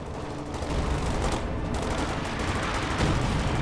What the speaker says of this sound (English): There is a machine gun set up in the middle, however. Suppresses 1 squad.